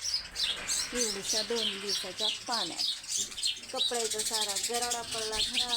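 Sparrows chirp and twitter continuously around a rural home, their busy calls running under someone talking throughout.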